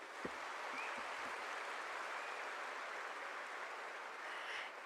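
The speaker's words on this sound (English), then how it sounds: "A huge round of applause" Sustained clapping from a large audience at a spirituality festival fills the whole stretch, dense and even, heard from some distance.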